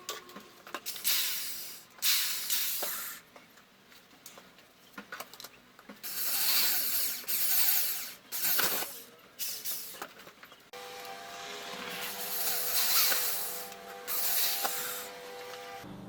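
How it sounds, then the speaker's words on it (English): A drill whirs through a plastic lid in several separate bursts of grinding and hissing, starting and stopping, with quiet pauses between runs. "let's get started by drilling a hole through the lid to hold it in place"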